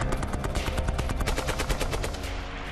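A machine gun fires a long continuous burst at balloons in an open field outdoors, the shots loud and densely packed in a steady rattling stream with no pause.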